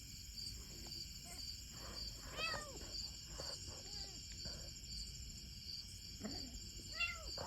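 A stray cat meows several times at moderate distance, some calls soft and some sharper, over a steady chorus of crickets and insects with a faint voice-like murmur beneath.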